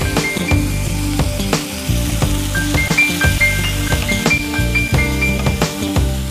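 Tomatoes and green chillies sizzle loudly in a frying pan while a metal spoon stirs, scraping and clinking against the pan in an irregular rhythm, close up with no one talking.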